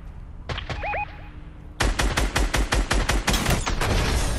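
Rapid bursts of gunfire aimed at a balloon, a dense run of sharp, loud shots fired in quick succession after a brief quieter lead-in.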